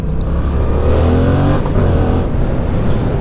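A Yamaha MT-07 motorcycle engine accelerates hard, loud and close, a continuous roar that climbs in pitch with a brief shift partway through.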